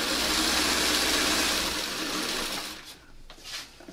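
A sewing machine stitching a quilt round rattles in a fast, steady whir at close range, then slows and stops near the end, leaving a few faint clicks.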